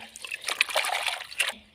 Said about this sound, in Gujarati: એને પણ આપણે પાણીમાં ધોઈ નાખશું